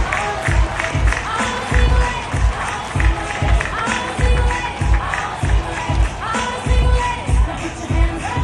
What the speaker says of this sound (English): Please give a resounding round of applause for Miss Rima Chaco.